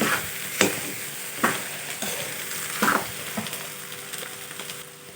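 A spoon scrapes and stirs a thick potato mixture in a frying pan, with several sharp scraping strokes over a soft, steady sizzle.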